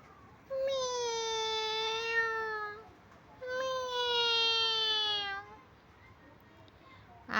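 A person imitates a cat, giving two long drawn-out meows separated by a short pause, each clear and close with a wavering, falling pitch.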